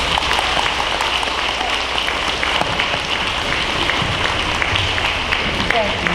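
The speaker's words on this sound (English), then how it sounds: "please join me in giving all of our veterans a round of applause for their service" Sustained audience applause for veterans at a St. Matthew's K-8 Veterans Day ceremony, a dense, loud wash of clapping from a large crowd that continues steadily throughout.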